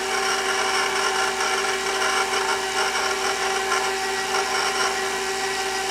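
Electric mixer creaming butter with granulated sugar for koulourakia, a steady loud whirring drone with a constant motor tone running throughout, no voices.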